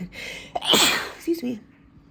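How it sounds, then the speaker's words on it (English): A single loud, close sneeze with a sharp breathy burst, followed by a brief vocal sound. "I have to sneeze."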